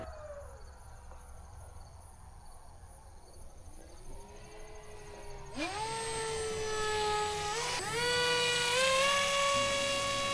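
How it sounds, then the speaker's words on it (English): An electric motor on a radio-controlled SU-57 pusher jet whines at a distance, then surges into loud rising tones as the throttle is pushed up in two steps, the pitch holding high and steady. "Tremendous amount of power with that motor."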